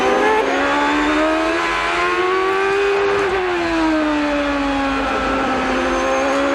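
On-board sound from Justin Wilson's Champ Car during the 2007 Mazda Champ Car Grand Prix of Portland: a loud, steady high-revving engine whine that rises and dips through gear changes, with no talk.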